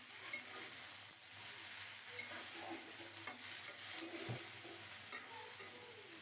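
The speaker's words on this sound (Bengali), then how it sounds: "এবার নেড়ে ছেড়ে ঢেকে ঢেকে মনের মতো করে কপিটাকে ভেজে নেব" Cabbage frying in oil with black cumin seasoning and salt, a steady close sizzle with occasional spoon scrapes as it is stirred, no voices.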